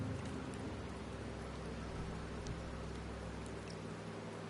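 Steady rain in Septimont in the video game Wuthering Waves, a dense even hiss with a low hum beneath, continuous and unbroken.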